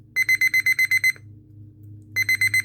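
A Panasonic RF-016 pocket radio alarm clock sounds its alarm: loud, rapid electronic beeps in an even pulsing run, a second of silence, then the beeping starts again, close and harsh.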